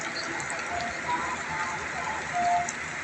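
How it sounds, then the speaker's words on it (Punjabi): Steady hiss of heavy rain falling on surfaces in Jogewala, Punjab, constant and moderately loud, with faint background sounds mixed in. "ਬਾਰਿਸ਼ ਹੋ ਰਹੀ ਹੈ ਇਹ ਬੂੰਦਾ ਬੰਦੀ ਨਹੀਂ ਵੱਡਾ ਮੀਂਹ ਪੈ ਰਿਹਾ"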